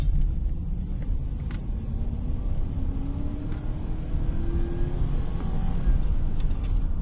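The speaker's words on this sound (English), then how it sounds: "Wanted you to hear the naturally aspirated V8 kick in." A 1994 Lexus with a naturally aspirated, fuel-injected V8 rumbles from inside the cabin under steady road noise, with a faint rising engine tone as it accelerates, and no one speaking.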